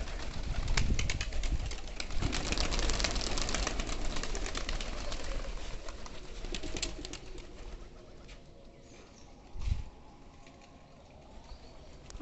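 A flock of about fifty or sixty pigeons coos in a loft, a dense steady murmur of calls mixed with rustling and occasional wing flaps, with one louder burst near the end.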